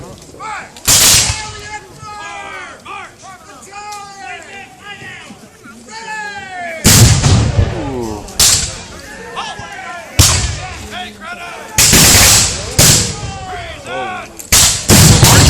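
Cannon and musket fire at a War of 1812 re-enactment of an engagement near Grimsby, with repeated loud, booming blasts at irregular intervals over crowd murmur and talk.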